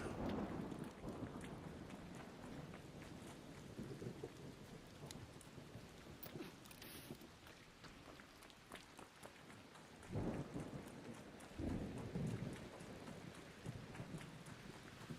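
An electromagnetic storm in a video game brings steady rainfall and repeated rolling thunder, with louder rumbling bursts near the start and again around the final third. No one speaks.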